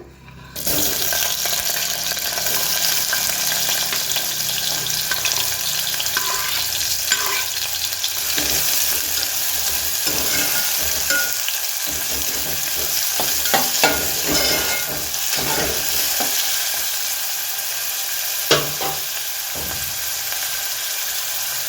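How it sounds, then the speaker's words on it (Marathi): Onion frying in oil in a pan for a dry moong dal and potato vegetable: a steady, loud sizzle running the whole time, with faint clinks and stirring scrapes and no talk. "तर तेल टाकलेलं आहे। आता कांदा टाकूया।"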